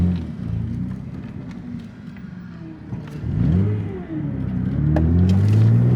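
A Nissan Altima with a catback exhaust rumbles at idle, then accelerates twice with rising exhaust roar on a street, heard from inside the car.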